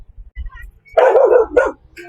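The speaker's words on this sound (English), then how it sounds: "Well, dog!" A dog barks in two close, loud bursts, with faint low thumps before them and nothing else around.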